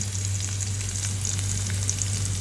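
Garlic fries in a pan for a dinner dish, a loud continuous close sizzle with brief stirring scrapes over a low steady hum, no one speaking.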